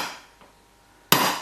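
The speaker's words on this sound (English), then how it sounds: "just give them a very, very light tap with a hammer" A hammer gives track spikes on a model railway sleeper base a couple of very light taps: one faint tick early on, then a sharper, louder tap near the end, with quiet between them.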